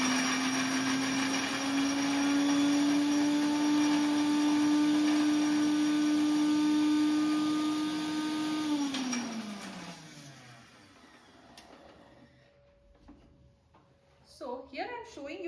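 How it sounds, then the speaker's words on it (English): Spices and garlic grind in an electric mixer grinder with a loud steady whine that winds down and stops partway through, after which a voice speaks. "So I'm here grinding all the spices which I have put."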